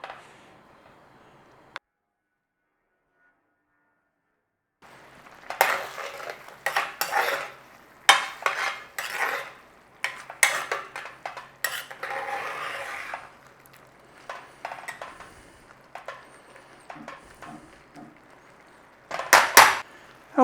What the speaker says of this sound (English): Set it to simmer for about 30 minutes and keep giving it a stir